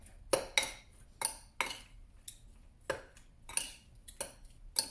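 A marinade with baking soda being mixed in a bowl by hand: a string of sharp, separate clinks and taps of a utensil against the bowl, close and irregular, with no talking.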